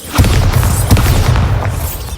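A Bombarda blasting spell in Hogwarts Legacy goes off as a loud, close boom, followed by a rumbling burst and a second impact that settle into a heavy low roar.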